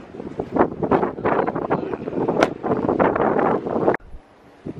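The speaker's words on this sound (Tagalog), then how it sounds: "Ang lamig. Ang hangin." Strong gusts of wind buffet the microphone in loud, rumbling bursts, then drop off abruptly near the end.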